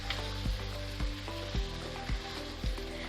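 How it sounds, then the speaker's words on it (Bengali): Onions sizzling hard in oil over high heat alongside frozen vegetables, a steady loud frying hiss punctuated by regular stirring knocks of a utensil against the pan about every half second. "আমার পেঁয়াজটা ভাজা হয়ে গেছে"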